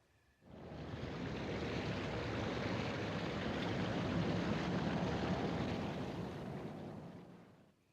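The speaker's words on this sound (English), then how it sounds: "The sound of waterfall seems to have stopped." Continuous roaring rush of a waterfall in the video game Resident Evil HD, a dense, broad wash of falling water that swells in, holds steady and fades out at the end.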